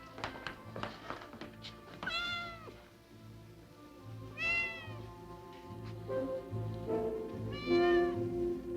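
A cat gives several drawn-out meows spread across the clip, with some light taps and thumps between them. The sound is fairly faint and close, and no speech can be heard.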